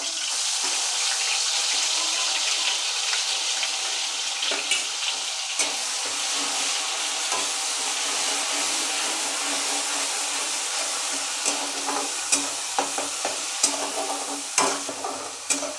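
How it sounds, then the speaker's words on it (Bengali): Onion and green chili paste frying in a mix of oil and ghee, a steady close sizzle with occasional stirring clicks and scrapes throughout, no voices. "এই পেঁয়াজ আর কাঁচা লঙ্কা পেস্টটা একটু হালকা ভাজা ভাজা হয়ে গেছে।"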